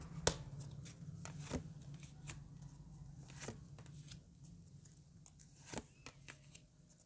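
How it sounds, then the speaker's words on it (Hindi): Tarot cards are shuffled in quick, soft riffling bursts with sharp flicks, close by and fairly quiet, with no talking. "final shuffle"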